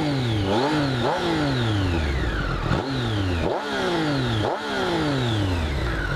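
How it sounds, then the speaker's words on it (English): A 2017 Triumph Street Triple 765 RS engine is revved hard several times, each throttle blast rising sharply then falling back, close and loud with no talking. "I'll give it another blast on the throttle"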